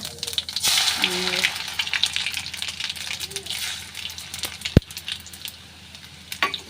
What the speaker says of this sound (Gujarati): લસણનો વઘાર નાખવાનો છે તો જીરું છે જીરુંનો વઘાર કરવાનો છે અને તેલ ગરમ થઈ ગયું છે